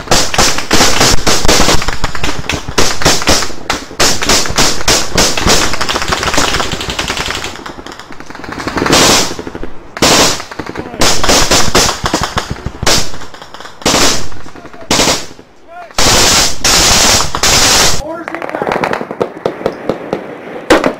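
Intense video game gunfire fills the scene, with dense automatic bursts and rapid shots rattling continuously, loud and close, broken by brief gaps before more sustained volleys.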